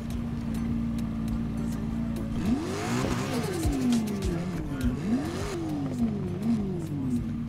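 Ferrari engine in Need for Speed Heat revving and shifting up and down in repeated sweeping surges over a steady drone, loud and close, with no voices.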